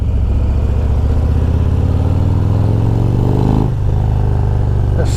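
Close, loud, deep rumble from a 2023 Harley-Davidson Road Glide Special fitted with a Screaming Eagle Stage 2 engine, steady revving that briefly dips near the end before picking back up.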